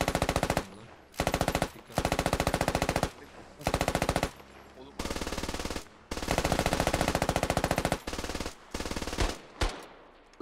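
Machine gun fire in the Squad video game comes in repeated long bursts of rapid automatic shots, loud and close, separated by short pauses.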